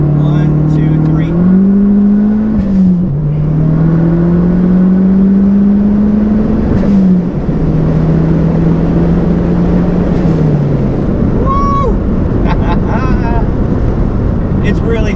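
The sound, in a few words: Dodge Neon SRT-4 engine revving during brake boost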